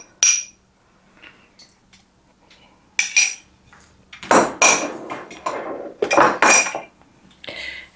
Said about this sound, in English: And give this a good mix.